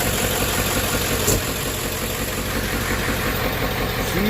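A Ford OBS 7.3 diesel engine idles steadily just after an oil change, a continuous low rumble with a rhythmic clatter running unbroken and close throughout.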